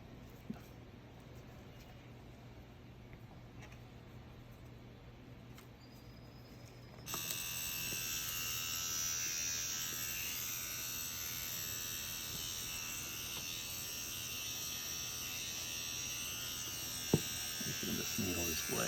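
A rotary tattoo machine pen runs with a steady electric buzz, starting quieter and switching to a louder, brighter whine partway through, continuing evenly to the end.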